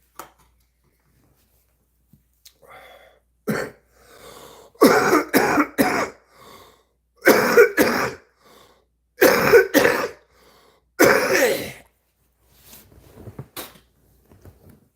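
Several loud, harsh coughing fits and throat clearing come in bursts separated by quiet pauses, close to the listener.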